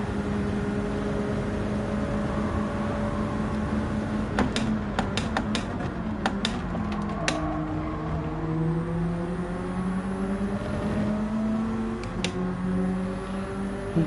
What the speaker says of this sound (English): I'm going to rev it out a tad more this time.